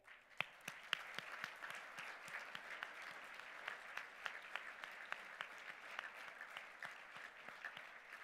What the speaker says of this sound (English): Please join me in another round of applause for our honorees today.